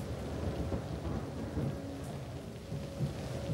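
Heavy, driving rain pours with deep rolling thunder during an airliner's approach through storm clouds, as in American Airlines flight AA1420. The downpour is a dense, continuous hiss, with low rumbles swelling underneath it and no voices.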